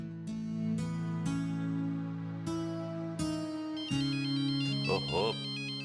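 A mobile phone ringtone plays as a melodic electronic tune with repeating tones, loud and close, in a quiet domestic room with no speech over it.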